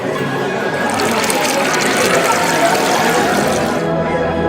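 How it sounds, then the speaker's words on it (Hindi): Water pouring steadily into clay pots in a film scene, a loud continuous splashing rush that holds for several seconds before stopping. "इन मटकों में पानी भर दो।"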